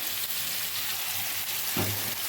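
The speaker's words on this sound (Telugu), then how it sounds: "లో ఫ్లేమ్ మీద ఇలా కొద్దిసేపు ఫ్రై చేసుకోవాలి." Sweet paste mixture frying in ghee over a low flame for a Rakhi special sweet, a dense continuous sizzle up close with a brief scrape of stirring near the end, no talk.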